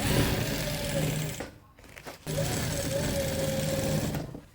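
A sewing machine stitches a pencil pleat curtain in two loud steady runs, pausing briefly in the middle with a quieter gap before resuming.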